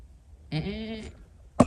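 A goat in a kidding pen lets out one clear, close bleat lasting about half a second, followed after a pause by a short sharp knock or clatter.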